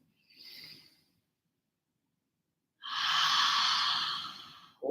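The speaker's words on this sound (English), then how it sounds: "Go ahead and do some audible H-A-ha breaths." Two audible yoga breaths exhaled with an open ha sound, a short soft one followed by a longer, louder breathy exhale after a pause, close and alone.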